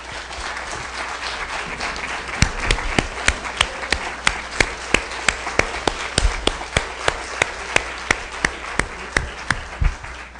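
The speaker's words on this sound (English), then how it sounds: "get everybody's applause and appreciation" An audience at a university town hall meeting applauds, and the clapping settles into steady, evenly spaced rhythmic claps that keep going to the end.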